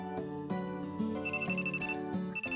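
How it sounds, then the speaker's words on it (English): A video game phone rings with an incoming call, a bright electronic ringtone melody repeating in short, regular phrases, fairly quiet with no talking. "Instead of a text, my phone received an incoming call."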